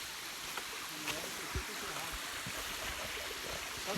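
A small waterfall in the mountains pours in a steady broadband rush of water, continuous and close, with occasional louder splashes and faint talking over it.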